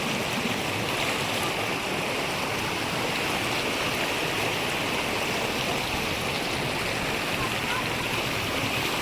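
River water rushing near a dam on a Waghai trek: a steady, dense broadband roar of flowing water, loud and unbroken from start to finish with no other sounds standing out.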